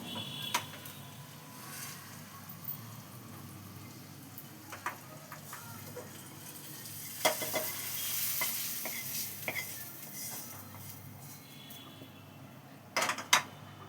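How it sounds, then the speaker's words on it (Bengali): Jackfruit seeds being mashed together with prawns by hand, soft squishing and faint pats punctuated by occasional sharper knocks against the bowl, quiet and close without speech. "এইবার এটার মধ্যে এইটাকে আমি দিয়ে পুরো মেখে নেব।"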